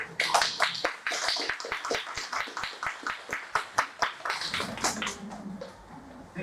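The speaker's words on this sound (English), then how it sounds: "So please join me in a hearty round of applause for Derek Attridge." A small lecture audience claps steadily for lecturer Derek Attridge, individual claps sounding in a fairly even rhythm before a voice briefly comes in at the close.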